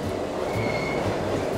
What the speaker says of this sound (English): At the BRIO City railway junction, many trains arrive and depart every day.